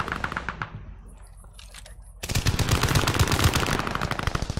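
Dense automatic gunfire crackles in fast rapid bursts in the World War II shooter Call of Duty: Vanguard, fading briefly and then returning loud and close for the second half.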